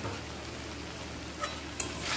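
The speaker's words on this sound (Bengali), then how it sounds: "আলু কুমড়োর সাথে ভালো করে চিনিটা মিশিয়ে নেব।" Pumpkin and potato being stirred with sugar in a pan, a soft steady sizzle with a couple of faint spoon scrapes against the metal, quiet and close with no talking.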